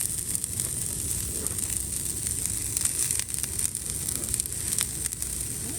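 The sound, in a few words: onions sizzling in an oiled pan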